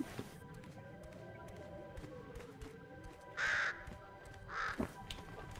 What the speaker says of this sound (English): That bird scared the crap out of me.